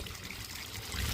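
Water poured onto a freshly laid brick wall to cure it, with a steady close trickle running down the bricks, alone and without talk.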